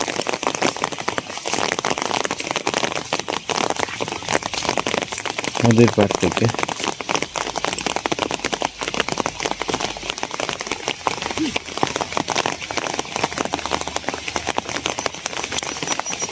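Rain falls steadily on a riverbank in the countryside, a constant hiss of drops on surfaces, while someone speaks briefly over it.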